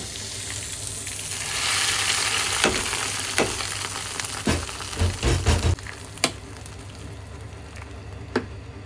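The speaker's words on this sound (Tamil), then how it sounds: "இந்த மாதிரி நுர தட்டி வரும்போதே இப்போ நம்ம தாளிப்பால ஊற்றி" A hot tempering sizzles as it is poured into a frothing curd curry. A loud hiss swells and then fades, broken by a few sharp clinks and stirring noises.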